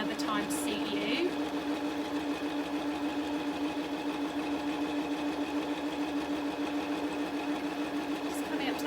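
A sewing machine stitching a reversible tote bag, its quiet steady motor hum running throughout with a few small clicks near the start and end.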